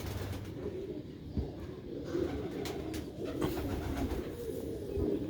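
Sialkoti black-faced pigeons coo nearby in repeated low, rolling calls amid a busy, muffled background.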